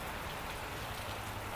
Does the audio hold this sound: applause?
no